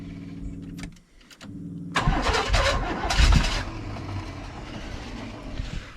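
A 1981 Chevy engine that has sat for 29 years cranks over, first with a slow, rhythmic starter churn, then after a short pause bursts into louder, rough uneven sputtering and chugging that continues to the end, close up with no talk.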